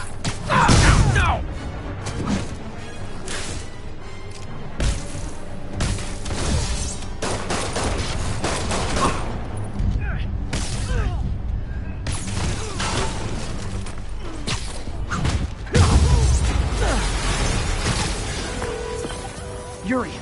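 Explosions and crashing debris burst through a PS4 video game scene, several loud hits and rumbling impacts scattered across the stretch, with character voices talking over the action.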